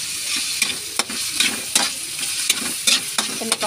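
Sautéed tomato, onion and garlic sizzle steadily in a pan as a utensil stirs them, with repeated scraping clicks over the continuous frying hiss, close up and with no talking.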